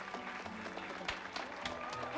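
Audience applause for a young couple at a Valentine's Week event, fairly faint and steady clapping from a moderate crowd, with a few sharper claps standing out and some background voice mixed in.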